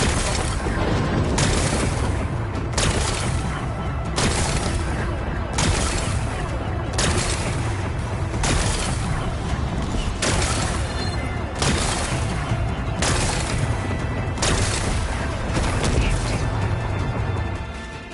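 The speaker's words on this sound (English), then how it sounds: "Gotta blast away some rocks. Need to expose the power cell. It's working! It's exploding." Repeated loud explosions blast away rocks in Horizon Forbidden West, a series of heavy booms roughly every second or so over a continuous rumbling game soundscape, with no pause for about eighteen seconds.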